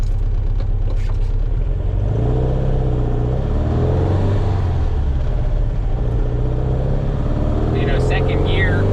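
A 1961 VW Beetle engine is given a little gas, a loud, steady rumbling drone with a slight rise in revs midway, close up and filling the whole stretch.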